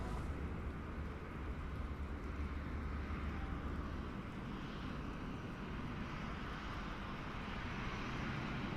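Steady, broad engine roar of an Airbus A321 airliner in a flight simulator game, a continuous even rumble and whoosh holding at moderate level throughout with no talk over it.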